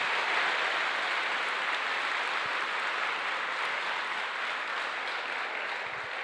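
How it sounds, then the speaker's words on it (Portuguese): A church congregation applauds during a service, a dense, even wash of many hands clapping that holds steady throughout, moderately distant with no voices standing out. "pode aplaudir."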